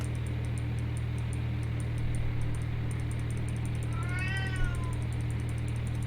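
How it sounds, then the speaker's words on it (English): A house cat meows in a short, rising series of cries partway through, fairly clear over a constant engine-like drone and hiss from a flight simulator running in the room. "My cat's crying."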